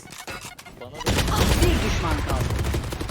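Gunfire in the tactical shooter Valorant, a quiet opening that erupts after a second into dense, continuous shots and bursts, loud and close, with faint voices mixed in.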